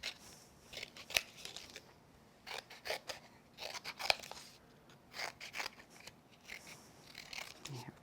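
Scissors trimming excess mounting foam on a handmade glitter birthday card: close, quiet snips and crunchy cuts in short irregular bursts, separated by faint rustling of the card and pauses.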